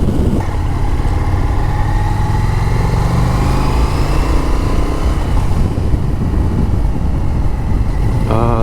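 An Indian FTR 1200 Carbon R motorcycle is ridden, its engine droning loudly and steadily as the pitch slowly rises and falls with the throttle.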